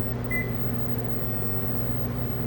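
A microwave oven hums steadily as it warms taco shells, with a constant low drone and a faint brief beep-like tone near the start, with no talking.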